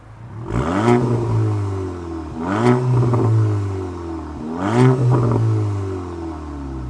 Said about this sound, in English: We can finally give it some revs and hear the brand new MBRP straight pipe, minus the whole resonator thing.